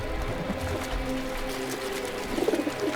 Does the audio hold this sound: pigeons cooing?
yes